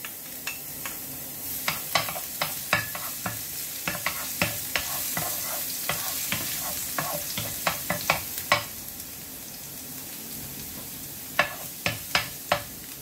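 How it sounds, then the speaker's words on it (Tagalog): Garlic and chili sizzle in a hot wok as a constant frying hiss, while sharp, regular clacks of a utensil scraping and stirring cut through it, with a pause near the end. "Mainit na yung kawali, lagay na natin yung bawang at sili."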